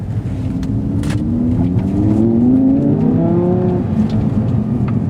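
A 2020 Audi R8 V10 engine roars and revs up, its pitch climbing steadily as it accelerates, loud and close with a rough throaty growl.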